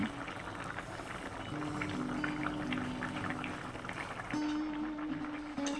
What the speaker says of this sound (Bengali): পাঁচ মিনিট খুব ভালোভাবে ফুটিয়ে নিয়েছি, অনেক বড় বাবলস এসে গেছে